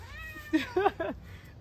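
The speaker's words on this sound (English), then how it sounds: "I have a kitty cat visitor." A cat meows three times in quick succession, close and clear over a quiet indoor background with no talking.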